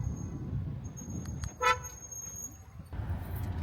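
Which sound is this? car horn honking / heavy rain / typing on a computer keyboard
car horn honking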